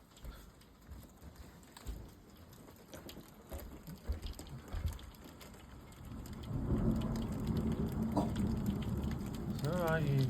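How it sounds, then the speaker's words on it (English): Heavy rain falls outdoors in a thunderstorm, a steady wash that swells louder in the second half with low thunder rumbling beneath, heard from indoors. "It's only a bit of thunder and lightning."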